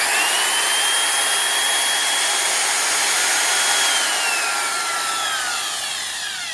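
A Black & Decker 4292 heavy-duty die grinder runs at a steady high-pitched whine, loud and close, then winds down slightly toward the end with no talking.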